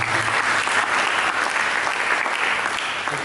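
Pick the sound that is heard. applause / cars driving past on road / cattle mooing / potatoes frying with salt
applause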